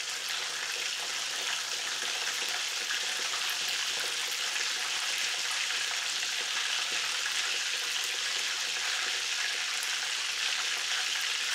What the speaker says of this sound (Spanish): Freímos el bacalao dándole vueltas, subiendo y bajando el fuego cuando sea necesario